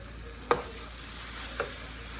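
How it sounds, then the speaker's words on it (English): Seasoned hamburger meat frying in a pan gives a soft steady sizzle, broken by two short knocks of the stirring spoon against the pan, close and quiet. "I'm going to start stirring all that in with my hamburger."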